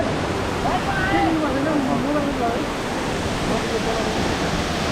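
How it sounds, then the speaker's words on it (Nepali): Tindhare waterfall near Kathmandu roars loudly and steadily as a dense wash of falling water. A voice is heard briefly over the constant rush. "मजाले झरनामा भिज्ने हो"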